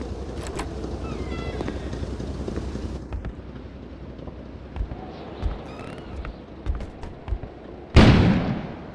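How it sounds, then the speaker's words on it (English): In the video game Kona, a sudden loud blast near the end bursts out over a busy rumbling background of scattered thumps, then fades with a roaring tail. "An explosion suddenly occurred outside."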